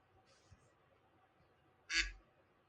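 A single short duck quack is played from a soundboard, loud and sharp after a quiet stretch with a faint earlier squawk.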